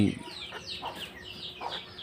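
Farm hens kept in a coop clucking and squabbling, with a few sharp squawks and quick rising calls spaced across the moment, fairly faint and close, alongside brief low voice-like sounds.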